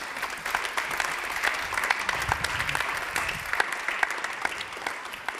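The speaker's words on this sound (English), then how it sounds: "Big applause for Warmbeck from Alvin Technologies." Audience applause at a startup pitch competition's grand final: many hands clapping in a thick, continuous roar with sharp individual claps popping out, sustained at an even loudness throughout.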